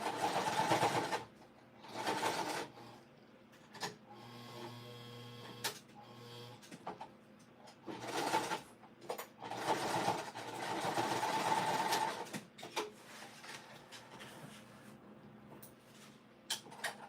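A sewing machine stitches in repeated bursts, its rapid mechanical chatter starting and stopping several times, close and moderately loud, with quieter gaps in between.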